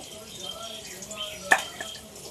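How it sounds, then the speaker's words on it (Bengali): Pointed gourd frying in a pan: steady oil sizzle, with a sharp clatter of stirring partway through and faint voices underneath. "আমার পটলটা প্রায় ভাজা হয়ে গেছে"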